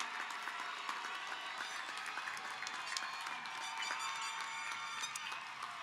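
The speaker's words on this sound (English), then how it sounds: "give them a round of applause for supporting you" A crowd of graduates at a graduation ceremony claps for their families, with sustained, even applause filling a large space and scattered cheers faintly mixed in.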